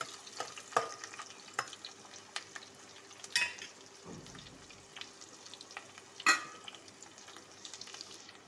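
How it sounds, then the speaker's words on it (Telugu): Onions with ginger garlic paste frying in a pan for a coconut fry curry, giving a soft, steady sizzle with a few sharp clinks of stirring. Quiet and close, with no talking. "అన్నీ వేసేసి ఈ విధంగా ఫ్రై చేస్తున్నాను"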